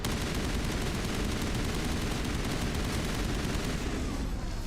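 Video game gunfire from Mass Effect rattles in dense, rapid bursts that fill the whole span, loud and continuous, with battle noise mixed in beneath.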